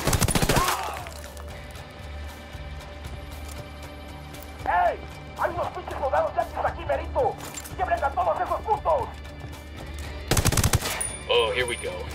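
Gunfire erupts in the tactical shooter Ghost Recon Wildlands, with loud sharp bursts near the start, middle and end and rattling automatic fire between them. Squadmates talk over the shooting.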